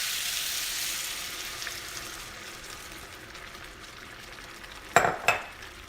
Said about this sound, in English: And let it simmer or boil for a little bit